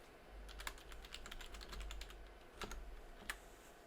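Keys tapped on a keyboard plugged into a Raspberry Pi, close and fairly quiet: bursts of quick, irregular clicks with brief pauses between them, no talking.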